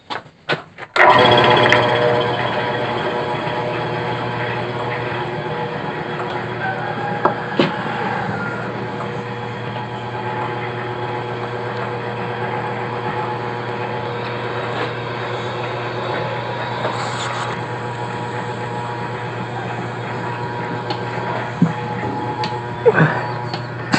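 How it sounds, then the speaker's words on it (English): A milking vacuum pump starts abruptly and runs on unchanged, a steady mechanical drone with a constant low hum close by in a large room. "Now it'll get a little noisy because it'll start the vacuum pump up."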